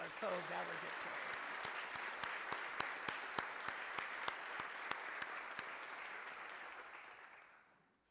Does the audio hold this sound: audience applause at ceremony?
yes